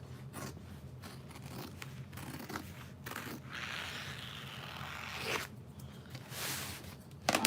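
Scissors rough-cut diaper bag fabric, a steady close crunching and rasping run of cuts that swells in the middle and ends with a few louder snips and handling noises.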